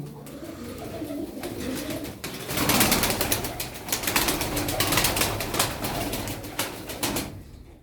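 Tumbler pigeons coo in a loft, low throaty calls repeating under a soft bustle, with bursts of wing flapping and fluttering that swell in the middle before settling; the birds are close and no voices are heard.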